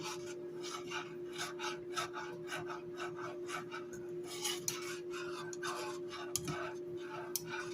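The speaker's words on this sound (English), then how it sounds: "I'm going to start whisking" A whisk scrapes steadily around a pot, stirring mozzarella and mild cheddar into a cheese sauce for macaroni and cheese, making soft rhythmic rasping strokes with a faint steady hum behind them.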